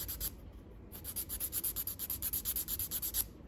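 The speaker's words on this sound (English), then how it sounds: "I'm just going to do one so you can see what it looks like once I file it down." A nail file is worked back and forth over a dip powder nail in quick, even strokes, making a soft rhythmic rasping close by and faint with no voices.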